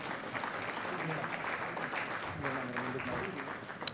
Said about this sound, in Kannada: ಅದ್ಭುತ ಕಾರ್ಯಕ್ರಮವನ್ನು ಆಯೋಜನೆ ಮಾಡೋದಕ್ಕೆ ನಾವೆಲ್ಲರೂ ಸೇರಿ ಒಂದು ದೇಸಿರಿ ತಂಡಕ್ಕೆ ಚಪ್ಪಾಳೆಯನ್ನು ಸಲ್ಲಿಸೋಣ ಬಂಧುಗಳೇ.